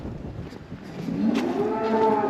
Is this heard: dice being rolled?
no